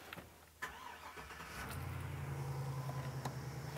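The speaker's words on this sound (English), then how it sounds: "Let me go crank it up so you can hear it." A 6-liter Chevy V8 engine in a 2007 Roadtrek 210 van cranks briefly, catches, and settles into a deep, steady idle rumble, heard up close with a few sharp clicks and knocks over it.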